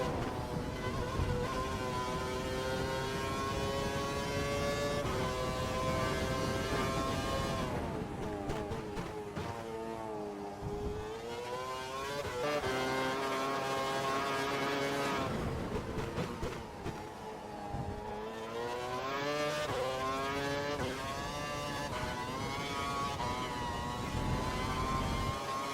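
A racing car engine screams through a qualifying lap in an F1 video game, its loud, continuous high-revving whine climbing and dropping with each gear change and corner, with no pauses over the whole stretch.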